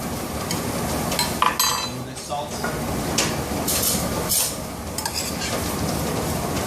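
Fresh farm arugula is stirred into a sauce in a pan, giving a soft sizzle with scraping and clinks of a utensil against the pan, while a person talks over it.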